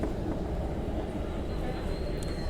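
An MTR train runs through a Hong Kong station on the Kwun Tong line, giving a steady low rumble and rolling wheel noise with a faint high whine rising near the end, close by and continuous.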